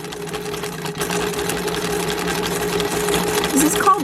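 Sewing machine running steadily while zigzag stitching on and off a fabric edge for a burp cloth, a continuous close mechanical whir at medium stitch length with a slight rise near the end.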